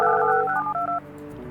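A phone line is installed in the Project Highrise building game and a run of telephone dialing tones beeps clearly, several quick keypad pitches in succession, then fades to a low hum.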